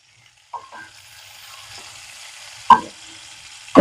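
Curry leaves drop into hot oil for a bitter gourd fry, giving a quiet sizzle with a few sharp crackles and pops, the last one loud, and no one talking.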